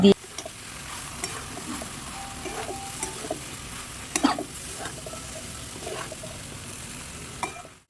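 Batter poured into a sizzling pan of potato and soybean curry, with continuous frying hiss and repeated spoon stirring and scraping, close and steady, without speech.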